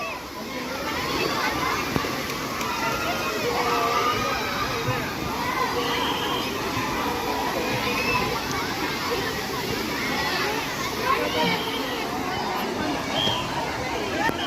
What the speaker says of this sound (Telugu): చిన్నపిల్లలు అందరూ వాటర్ బాగా పడుతున్నాయి